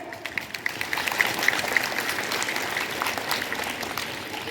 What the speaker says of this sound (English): Let's cheer for them by putting our hands together.